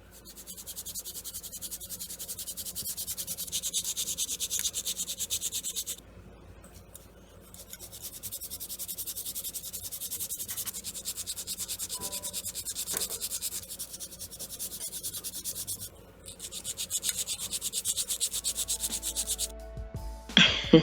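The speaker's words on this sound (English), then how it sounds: "I only used a hand file." Acrylic nails are filed by hand with a nail file, giving long stretches of steady, close scratchy rasping strokes broken by a few brief pauses, with no voices.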